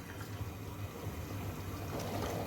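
Roughly half a litre of water is poured into a cooking pot of chicken and lentils, a steady close splashing gush over a low kitchen hum, no speech.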